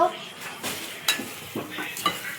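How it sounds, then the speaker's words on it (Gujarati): A spoon scrapes and stirs dosa masala in a pan, giving several spaced scraping strokes with light sizzling and clinks of metal, close and moderately quiet. "જો વિદિશા અત્યારે મસાલો હલાવવા આવી."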